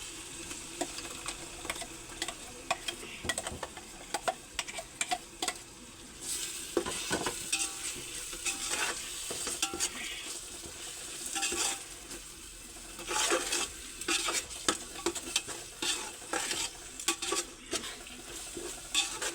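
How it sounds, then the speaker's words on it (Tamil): Ground tomato and onion paste poured into a hot pan and frying, with a steady sizzle, stirring scrapes and occasional utensil clinks against the pot, close and fairly loud, no talking. "இப்போ இந்த தக்காளி வெங்காயம் அறுத்து வச்சேன்னு சொன்னேன் இல்லைங்களா, அரைச்சி அது இப்போ கொட்டுறேன்."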